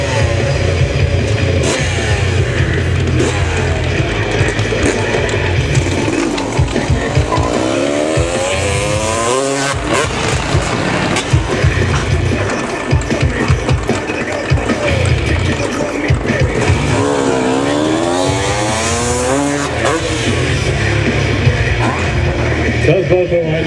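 Motorcycle engines revving loudly at a freestyle motocross show in Allstedt, with bursts of throttle over a steady crowd and PA din while a commentator speaks throughout.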